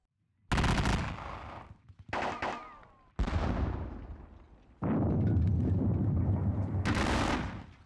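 Musket volleys and cannon fire from a Napoleonic war video game set at the Battle of Leipzig, heard as several loud, sharp bursts of gunfire with rolling booms, then a sustained crackling fusillade.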